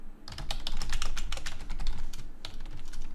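Fingers type on a computer keyboard in quick, uneven bursts of close, crisp key clicks over a low background hum, with no talking.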